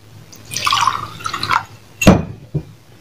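Water splashes and drips as rice is washed, with a sloshing stretch followed by a sharp splash and one smaller drip. The sounds are close and no one speaks.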